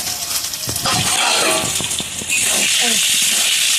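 Steady loud sizzling of pointed gourd frying in hot oil, close up, with brief clatter and a few faint sounds layered over the hiss.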